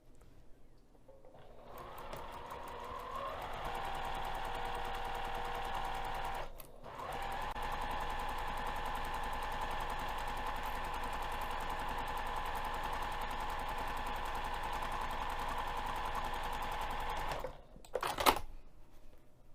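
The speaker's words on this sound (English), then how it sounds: "we're going to sew this pinned edge using 1/4 inch seam allowance" A sewing machine stitches a pinned edge of fabric pocket pieces with a quarter-inch seam allowance, running in a fast, even whir, pausing briefly, then running again for a long stretch before stopping with a final clunk.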